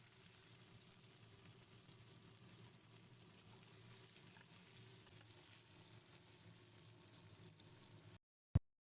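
Pieces of katla fish fry gently in oil in a pan, a quiet continuous sizzle holding steady for several seconds before cutting off, followed by a single sharp clatter.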